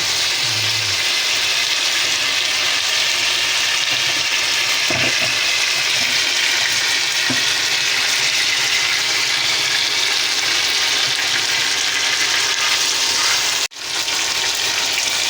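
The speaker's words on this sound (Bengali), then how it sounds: "একটু পানি দিয়ে দিলাম, একটু ভালো করে কষিয়ে নেব।" Water poured into a pan of spiced broiler chicken cooking in ground masala, hissing and sizzling loudly and steadily, with a few faint knocks near the start and a brief dip toward the end.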